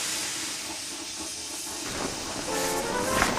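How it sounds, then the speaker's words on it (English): A steam locomotive lets out a long, loud burst of steam, a broad continuous hiss that swells slightly toward the end. "He was so scared, he let out a huge burst of steam,"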